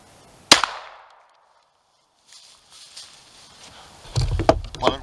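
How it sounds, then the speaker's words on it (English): A handgun shot fired into stacked wood boards gives one sharp, loud crack that rings off and fades. After a quiet gap come faint shuffling sounds, then a burst of close clattering and handling noise. "A second shot will be made to this side to confirm."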